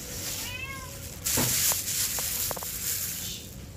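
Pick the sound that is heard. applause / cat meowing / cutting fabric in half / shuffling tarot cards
cat meowing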